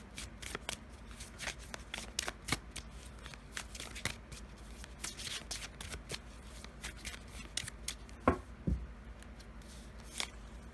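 Madame Endora oracle cards are shuffled by hand in quick, close riffling and flicking bursts, with repeated crisp slaps and a couple of louder knocks near the end.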